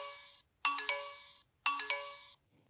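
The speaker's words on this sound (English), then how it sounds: "You will see the display light up and may hear the meter chime three times." An iGlucose blood glucose meter chimes on power-up, sounding two clear, bright electronic chime sequences separated by a short gap, each with a few quick stacked tones, close and clean with no talking.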